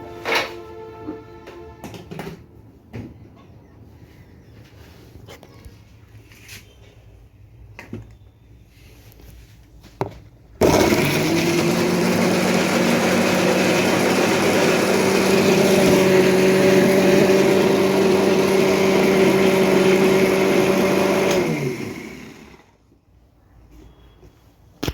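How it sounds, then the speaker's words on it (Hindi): A blender grinds tomato, coriander, garlic and chilli into chutney, a loud steady motor whir starting abruptly near the middle and running for about twelve seconds before stopping, after quieter handling noises and faint background sounds. "इसमें मैंने टमाटर, धनिया, लहसुन, मिर्ची सब डाल के अब इसको पीसूंगी"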